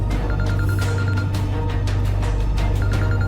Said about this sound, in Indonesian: Telepon terus dari tadi.